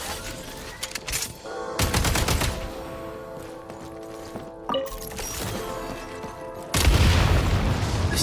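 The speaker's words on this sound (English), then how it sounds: "Shoot the explosives to detonate them and clear the path" Explosives detonating in Genshin Impact's Shadow Realm, several loud booming blasts with rattling debris, separated by stretches of tonal game music, the heaviest burst arriving near the end.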